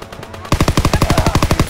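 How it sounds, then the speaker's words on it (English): A machine gun in Call of Duty WWII on D-Day fires a fast, loud burst of about a dozen evenly spaced shots close by, after a brief quieter moment. "Open fire! Someone get on the MG!"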